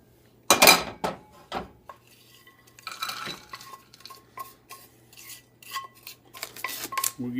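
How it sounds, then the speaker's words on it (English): Pecans are scooped into a small bowl in a kitchen, producing a sharp clatter at first and then a run of light clinks, taps and scrapes against the dish, fairly close. "we're going to go ahead and take our pecans out"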